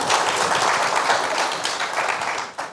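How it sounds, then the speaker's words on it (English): Conference audience applauding its panelists at a retail industry event in East Africa, a dense, steady wash of many hands clapping together that holds for nearly three seconds before tapering off. "please give a warm round of applause for our panelists here today"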